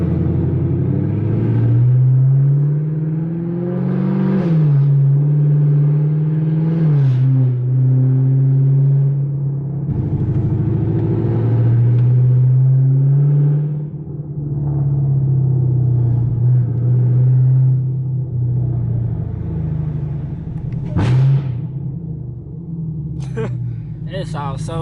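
Supercharged Camaro ZL1 engine revs repeatedly, its pitch rising and falling in loud close surges with a whining edge, while people talk over much of it.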